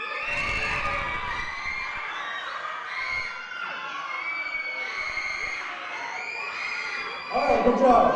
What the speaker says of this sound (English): I want everybody just to scream as loud as I can